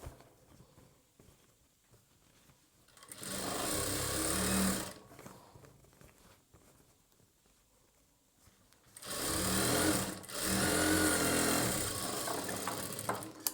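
Sewing machine stitching a churidar bottom, running in two steady whirring bursts of a couple of seconds each with quiet pauses between, close and fairly loud.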